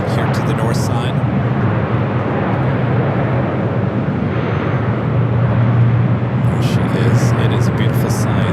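A Finnair Airbus A350 at LAX airport at night gives off a steady, loud, broadband roar of jet engine noise that runs continuously with no clear peaks, with faint voices in the background.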